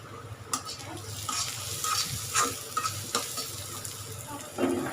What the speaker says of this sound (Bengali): পেঁয়াজটা কষাই নেব